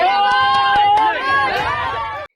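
A crowd of protesting villagers shouting slogans together in rhythmic unison, loud and close, with sharp claps or thumps punctuating the chant.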